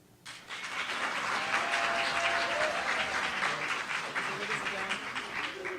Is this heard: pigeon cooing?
no